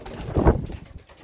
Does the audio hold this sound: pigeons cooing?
yes